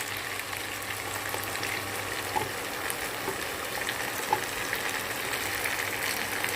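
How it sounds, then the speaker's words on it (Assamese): Boiled pasta and Maggi noodles fry with browned onions in a pan, giving a steady, even sizzle with occasional small pops and crackles throughout. "এতিয়া মই বইল কৰি থোৱা পাস্তা আৰু মেগীখিনি ঢালি দিম।"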